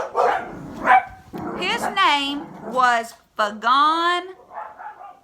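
Several dogs bark and yelp close by in short, high, whining bursts, overlapping with a person talking throughout.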